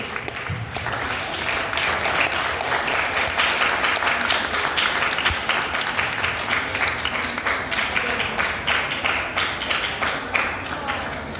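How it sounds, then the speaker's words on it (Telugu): An audience at a yoga award ceremony claps steadily and enthusiastically, with dense sustained applause filling the room throughout, with a voice faintly underneath. "Give a big hand claps."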